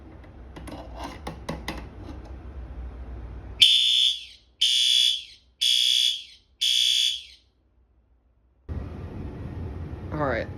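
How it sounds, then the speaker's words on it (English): Loud fire alarm horns blast in four evenly spaced bursts on code 3 during a system test, preceded by clicking and rustling, then sudden silence before noise resumes. "And now let's pull the fire alarm. The horns are set on code 3."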